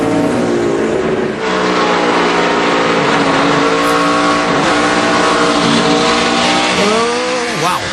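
Race cars scream past at Watkins Glen during a NASCAR Cup race start, a loud, dense roar of several engines revving and shifting pitch as the pack passes close, continuous throughout with no talk.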